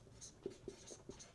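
Pen writing a math formula on paper: a few faint, short scratchy strokes in quick succession, close but quiet.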